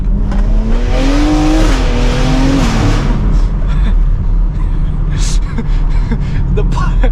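A BMW X3 M with a Stage 2+ tune revs hard in two-wheel drive and rises in pitch as it accelerates, loud and close, then settles into a rough rumble with road noise.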